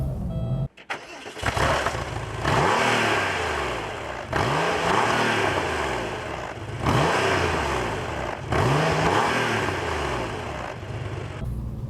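A 1998 Porsche 911 Carrera S with an air-cooled engine cranks and starts, then revs repeatedly in rising and falling sweeps between idle stretches. It sounds close and loud, with no talking.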